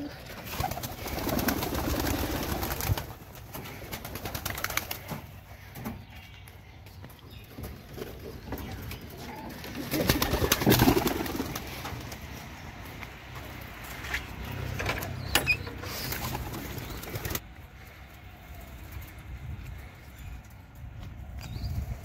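Domestic pigeons coo repeatedly at close range in a backyard coop, their low throaty calls recurring throughout with scattered rustling and a bird call, and no talking.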